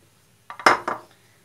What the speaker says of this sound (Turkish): Şimdi doğramış olduğum tavuk etlerimi